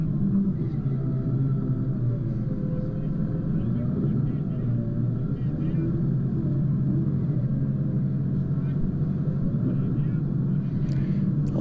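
A car drives slowly along the eroded Long Tom Bypass track in Stanley Forest, its steady engine rumble and low road noise continuous and close throughout, with a voice talking over it.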